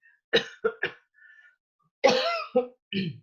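Several sharp coughs from one person, including a quick double cough and a longer, rougher one near the end, close up in a quiet room, with a faint short sound between them.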